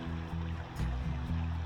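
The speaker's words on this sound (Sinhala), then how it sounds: "මේ වතුර පාර මෙහෙම ගලාගෙන යනවා" A stream of fresh water flows over stones through English countryside hills, a steady close trickling and burbling with low rumbling undertones throughout, no voices present.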